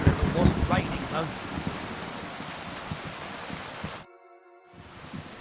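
Steady rain in the video game Kingdom Come: Deliverance hisses loudly with a low rumble beneath, then cuts briefly to a faint musical tone before the rain noise returns.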